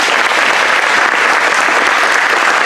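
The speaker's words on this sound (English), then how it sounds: "So let's give her a round of applause" Applause at a school district parent meeting fills the room with dense, even clapping from a sizeable crowd, loud and continuous without a break.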